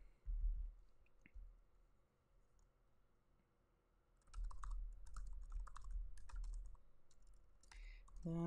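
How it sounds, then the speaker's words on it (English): Typing on a computer keyboard: a quick cluster of soft close key clicks in the second half after a quiet stretch with a low rumble, fairly faint overall. "And I'm typing it out."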